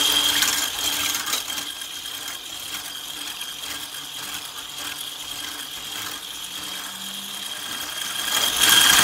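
Three eggs with a pinch of salt get mixed in a bowl for a bubble cake, making a continuous close whirring, rattling mechanical beat.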